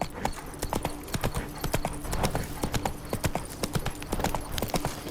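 Roach the horse clip-clops through The Witcher 3, a steady run of close, crisp hoof strikes lasting the whole stretch, with faint game ambience underneath.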